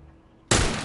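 A single loud hunting-rifle gunshot in The Last of Us game cracks out abruptly after a quiet moment, its sharp burst filling the soundscape and ringing on with a sustained roar to the end.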